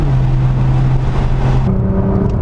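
A Nissan GT-R with twin turbos pulls away under light throttle, its engine droning loud and steady with a low hum that shifts pitch partway through, close and continuous.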